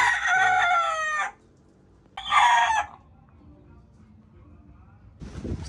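A rooster in the Veragua countryside of the Dominican Republic crows loudly twice nearby, a long call followed by a shorter one, with a brief noise at the end.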